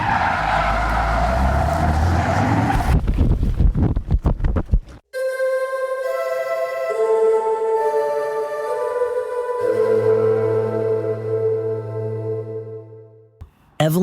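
A car speeds away in a chase with a loud roar and tire skids at the start, then a rough break gives way to sustained musical tones and a long drone.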